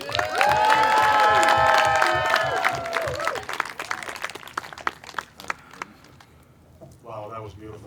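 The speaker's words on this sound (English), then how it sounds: "Another big round of applause." Wedding guests give a round of applause and cheers while music plays. The clapping thins after a few seconds, and a voice speaks near the end.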